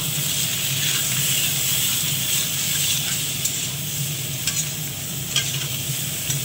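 Potatoes fry in a wok with a steady, dense sizzle of hot oil close by, with faint scraping and stirring clicks.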